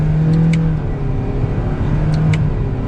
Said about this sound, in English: You can hear a little bit of that engine noise.